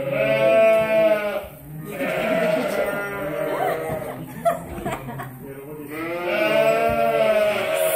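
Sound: flock of ewes bleating

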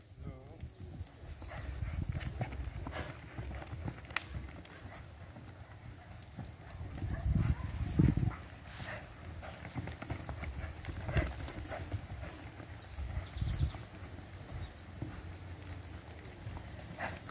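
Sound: criollo horse hooves clip-clopping

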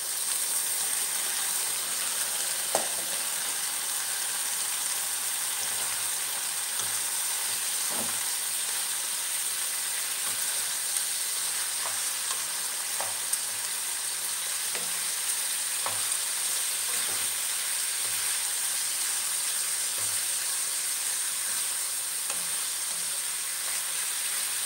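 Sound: pork frying and sizzling in a pan for kaldereta

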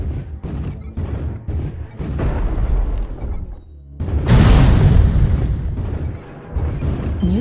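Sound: artillery strike explosions in a video game

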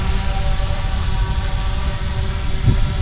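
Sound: DJI Phantom drone hovering

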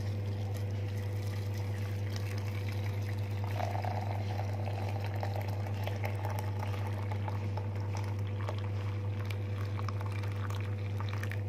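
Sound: boiling water poured over ingredients for a drink

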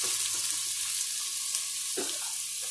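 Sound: onion frying in a pan

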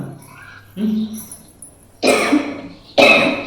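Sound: coughing

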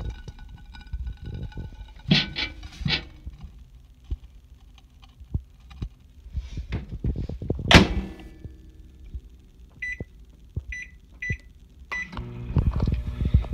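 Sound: microwave oven running with Ivory soap inside

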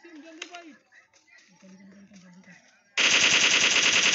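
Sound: gunfire in a video game

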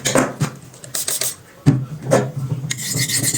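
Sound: blade rubbed on a coarse sharpening stone

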